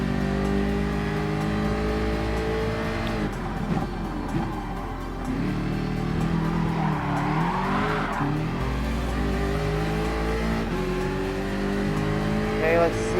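A BMW M6 Nürburgring 24-hour race car engine in Gran Turismo Sport on Mount Panorama, loud and close, its pitch climbing and dropping through gear changes, with brief tyre squeal.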